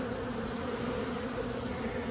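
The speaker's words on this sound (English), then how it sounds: "There's still bees all up that limb that way" Steady, close swarm of honeybees buzzing around a tree limb during a trap-out, a dense continuous drone with no pauses and no voices.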